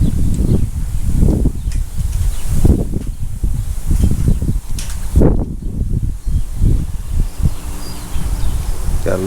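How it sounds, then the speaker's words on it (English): Wind blows outdoors over a workspace where a classic car's headliner is being fitted, striking the microphone in loud, close, low gusts that swell and fade repeatedly with brief lulls between them. "Gotta let this wind die down."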